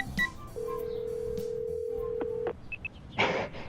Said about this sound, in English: I find it on my phone and give her a call.